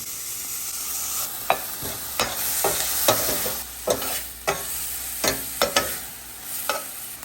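Liver, gizzards and heart frying with onions and bacon for Thanksgiving dinner, a continuous close sizzle broken by repeated spoon scrapes and taps against the pan at an irregular pace.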